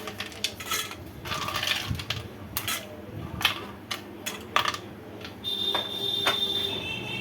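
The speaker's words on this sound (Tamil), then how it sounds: "இப்போ ஐஸ் க்யூப்ஸை போட்டுக்கலாம்." Ice cubes clatter one after another into a bowl of homemade fruit custard, making sharp clinks and knocks of hard ice against the dish, with a brief high whine near the end.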